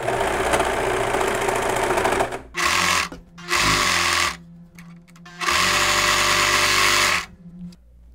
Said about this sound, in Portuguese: eu vou tentar não ficar cortando o tecido aqui na máquina, tá? Só fechar.